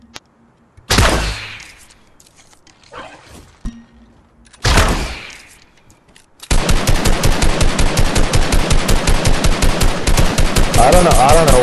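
Video game gunfire: a couple of heavy single bursts, then a sustained rapid automatic weapon fire that runs loud and steady to the end, with little else audible.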